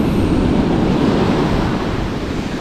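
Ocean surf rushing at a beach in northern prefecture coastal waters, a loud continuous roar of breaking waves with some wind buffeting on the microphone.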